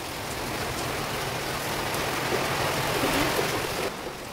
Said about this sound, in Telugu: పెద్ద వర్షం పడుతుంది ఫ్రెండ్స్ చూడండి